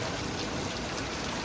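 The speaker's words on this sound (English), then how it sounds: "That rain actually feels pretty good." Rain falls in a dense, steady hiss with fine spattering throughout, close and even, with no talk.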